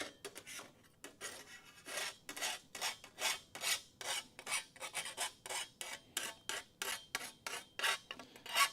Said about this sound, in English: I know I'm dragging the file backwards